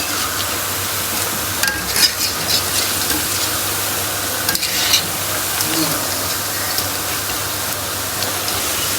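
Cauliflower pakoras sizzle steadily in hot oil and are turned over, a continuous close frying hiss broken by a few brief stirring and scraping clatters.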